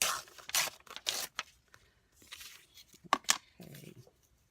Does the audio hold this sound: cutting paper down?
yes